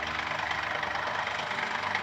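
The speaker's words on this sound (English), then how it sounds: "the engine needs to be running for this process" Mercedes engine idling during a transmission oil level check on a 9G-Tronic (725.0) automatic gearbox, a steady low hum with an even mechanical rumble, continuous and close.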